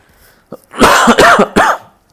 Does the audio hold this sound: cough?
yes